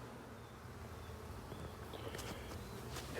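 Honeybees hum steadily around an open hive of a colony that was once the weaker one, a soft continuous buzz that grows slightly louder toward the end, with no talk over it.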